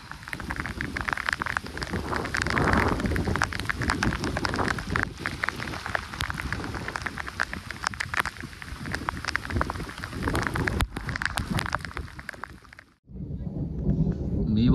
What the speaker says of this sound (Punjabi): ਮੀਂਹ ਬਹੁਤ ਆ